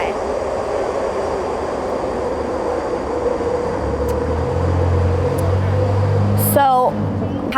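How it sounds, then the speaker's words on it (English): A train rumbles past steadily in the background, its low roar swelling toward the end, while people talk over it and a brief squeal cuts through near the close. "Hold on a second so the train goes by."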